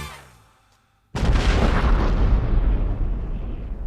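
A bombshell explosion booms in suddenly after a near-silent pause, a loud, broad blast that keeps roaring and rumbling for several seconds with no voices.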